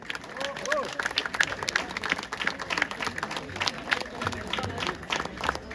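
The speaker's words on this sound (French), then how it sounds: "Applaudissez." Guests applauding the godmother at a baptism ceremony, scattered clapping mixed with crowd murmur and voices, moderately loud in a reverberant room.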